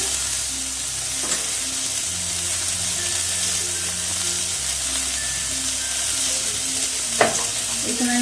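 Tomatoes frying with tangra fish curry in a pan over medium gas, giving a steady loud sizzle with a few stirring clinks and a sharper knock near the end, no speech.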